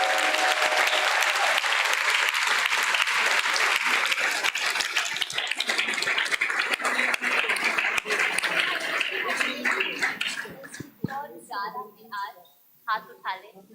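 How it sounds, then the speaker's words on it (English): Loud crowd applause for festival volunteers at a yoga gathering, dense clapping that swells and holds, then thins out as a voice begins speaking and scattered claps and light laughter linger. "So a big round of applause again for all of them."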